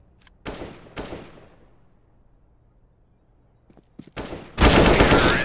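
Gunshots in CS:GO, two sharp close shots, a pause with a faint rattle, then a couple of lighter cracks leading into a loud burst of sustained fire.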